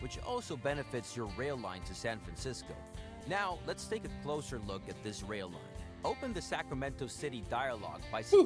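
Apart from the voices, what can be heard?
No distinct noise like a dog, phone or traffic.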